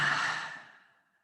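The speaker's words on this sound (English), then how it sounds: "And another breath." A single deep exhale during guided meditation, a soft breathy sigh that starts full and close then trails off to near silence over about a second, heard alone.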